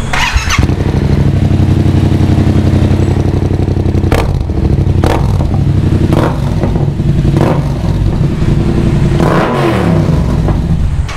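A Yamaha MT-07 with its crossplane engine and an aftermarket Exodus muffler revs loudly up close, with a steady throaty idle broken by several sharp blips of the throttle.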